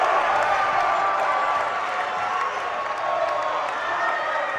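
Basketball fans roar and cheer in an arena after a Dartmouth save against Harvard, a dense, sustained crowd noise with scattered shouts and claps, steady throughout.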